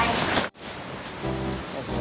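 Heavy rain pours in strong wind over a small backyard swimming pool at a home where children are playing in the water. A steady, loud hiss runs throughout, broken only by a brief dropout.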